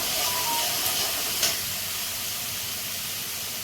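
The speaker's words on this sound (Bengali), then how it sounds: "হলুদ দিয়ে দিচ্ছি আমি। ভালো করে একটু মশলাটা ভেজে নিই।" Spice masala with turmeric fries in a pan for a fish curry, giving a soft, steady sizzling hiss with a brief sharper crackle near the middle, close but fairly quiet, no talking.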